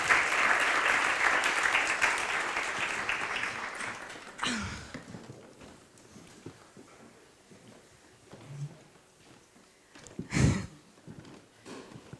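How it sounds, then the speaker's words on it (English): Audience applauding the panelists at a consumer-brand business talk: steady, dense clapping fills the first four seconds, thins out, then fades into scattered claps and room noise. "So now I'm gonna ask for a round of applause for our panelists, please."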